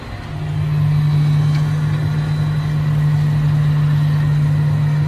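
A John Deere 6R250 tractor pulling a six-furrow variable-width plough gives out a steady, loud engine drone with a strong low hum, heard alone and unbroken from start to finish.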